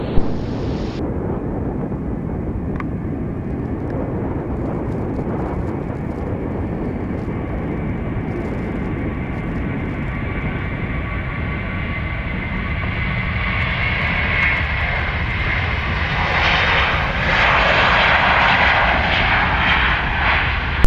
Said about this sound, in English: Roger, clear for takeoff, runway 30 left, Qatari 27 Whiskey, rolling now.